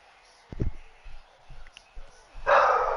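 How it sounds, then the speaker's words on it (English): A dog barks in a few short, sharp bursts, then a loud, broad roar swells and holds to the end. "Dog going bonker."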